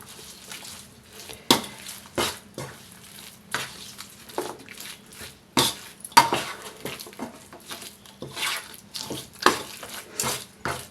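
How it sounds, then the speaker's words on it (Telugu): A spoon stirs curry leaf chutney with tempering in a steel vessel, producing a long run of irregular metallic clinks and scrapes, close and moderately loud, with no voices. "ఇప్పుడు పచ్చడిని బాగా కలుపుకుందాం"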